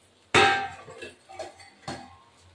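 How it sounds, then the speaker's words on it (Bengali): A lid set down on a pot of hilsa steaming in mustard: one sharp metallic clank with a short ringing tail, then two lighter knocks as it settles. "ঢাকাটা দিয়ে দেবো"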